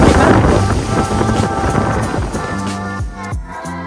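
A tour boat cruising in wind off the Paracas coast in Peru, loud gusting wind buffeting the microphone over a rushing engine and water, easing slightly toward the end.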